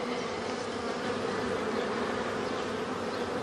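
Honey bees buzz in a dense, steady swarm as a frame is shaken into the hive, the hum loud, continuous and close with no talking.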